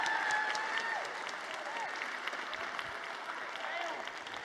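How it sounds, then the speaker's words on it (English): A large audience at a live event applauds the hosts with dense, sustained clapping that fades slightly toward the end, with a voice faintly audible over it. "Can we get a massive round of applause for Murray and Julie?"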